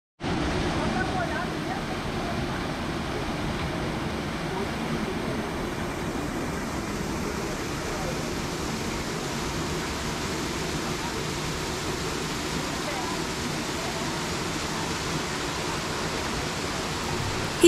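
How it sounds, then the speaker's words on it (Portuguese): The Cascata do Poço Verde waterfall on a trail between Gramado and Três Coroas roars as a constant broadband wash of falling water, steady and fairly loud from start to finish. "E chegamos ao nosso primeiro destino, a Cascata do Poço Verde."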